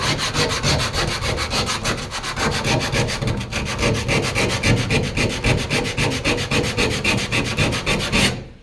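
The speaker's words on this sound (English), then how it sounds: "because this is all I've been doing is sanding" Steady, rhythmic sanding of surface rust off the trunk metal of a 1966 Ford Galaxie 500 convertible, a rough scraping stroke repeating quickly and evenly for several seconds, loud and close, no voices.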